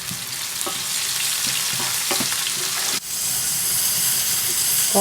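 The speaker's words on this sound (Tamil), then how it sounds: "ஆனியன் வந்து நல்லா வதங்கணும்" Sliced onions sauté in hot oil in a pan for a bitter gourd fry, a steady, loud sizzle and hiss with a few soft stirring scrapes and one brief break.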